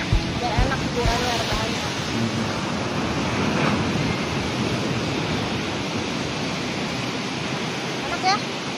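Surf washing onto an Indonesian beach makes a steady broadband roar, close and continuous, with faint voices and a brief sharp noise near the end.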